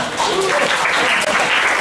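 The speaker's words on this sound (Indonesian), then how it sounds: "Wah, boleh tepuk tangannya dong." Loud, dense applause from a talk-show audience at a 2014 entrepreneurship event, filling the whole short stretch at a steady level.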